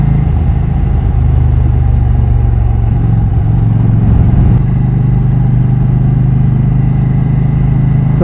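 A KTM 790 Duke motorcycle engine runs steadily, a loud, close mid-pitched drone holding an even note that swells slightly partway through, with no talking.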